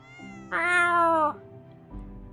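A single drawn-out cat meow from the Romance Club game, Time Catcher episode, rising loud and clear against a quiet background, followed by a soft low rumble.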